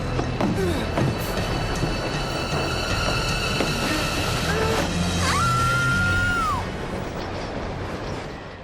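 A moving steam-era passenger train in the adventure game The Last Express rumbles steadily with clattering wheels and rail noise, a squeal of metal rising midway, loud and continuous with no talking.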